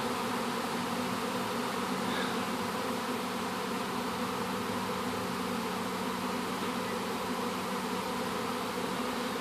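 Bees swarm and buzz around a bait hive, a constant dense droning hum with no breaks, fairly loud and close throughout.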